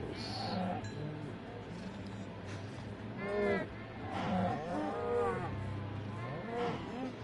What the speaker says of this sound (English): Honestly, we have a lot of cows.